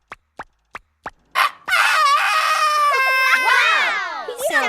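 A man vocally imitates a rooster crow: a long, loud, strained warbling call that rises and then falls away, preceded by a few sharp taps, with no other talking.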